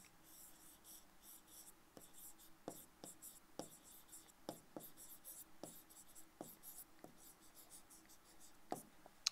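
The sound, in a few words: writing by hand on paper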